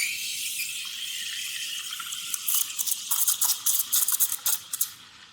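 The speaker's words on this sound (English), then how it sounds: "It might sound like this with a small, gentle hiss." Espresso machine steam wand aerating milk with a small, gentle hiss: a steady, soft high hiss that turns into quick sputtering bursts during the second half.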